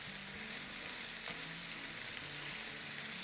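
Chicken fries in a preheated wok while it is stirred, with a steady crackling sizzle throughout. Soft scraping and clinking from the stirring sit under the sizzle, and one sharper clatter comes midway.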